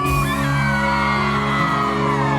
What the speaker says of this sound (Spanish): Y las chicas un grito fuerte